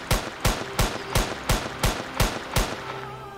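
Seven loud gunshots ring out at an even, rapid rhythm in the video game Rail Adventures, each a sharp close blast with a short decay, followed by a brief quiet tail.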